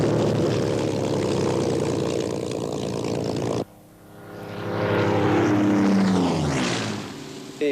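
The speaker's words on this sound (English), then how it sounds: "So I rebuilt this aeroplane purely to be able to fly it." Propeller engine of a Spitfire aeroplane in flight, a loud sustained droning roar that cuts off sharply partway through, then swells back as the plane passes with a shifting pitch.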